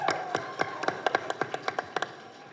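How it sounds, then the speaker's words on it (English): Crisp, evenly spaced hand claps ring out in a steady rhythm, welcoming an actor onstage at a film team's promotional event; the clapping is moderately loud and stands alone without talk. "Let's welcome with a big round of applause a charming actor"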